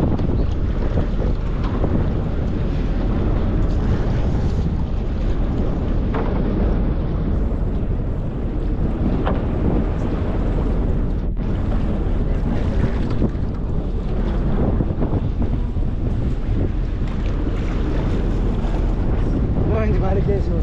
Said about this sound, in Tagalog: Grabe kalakas yung alon ay hangin.